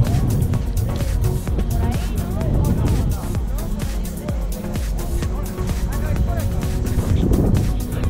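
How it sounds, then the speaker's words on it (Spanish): Snowmobile engine at the Alto Campoo ski resort in Cantabria, a steady loud rumbling drone with wind buffeting across the microphone, running continuously throughout. "Aquí tenemos una moto de nieve, amigo."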